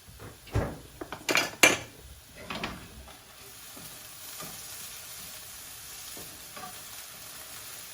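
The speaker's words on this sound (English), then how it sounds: "I hear the onions starting to sizzle away now." Onions for a Mediterranean risotto going into a pan that has no oil yet: a soft, steady sizzle runs under a few loud clanks and scrapes of utensils on the pan early on.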